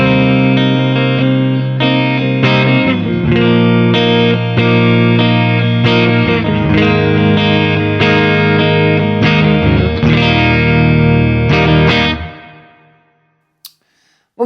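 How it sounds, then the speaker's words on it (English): A clean electric guitar strums a series of ringing chords with a roomy reverb tail, then fades out, followed by a couple of faint clicks. "Let me add some reverb maybe. Some room reverb."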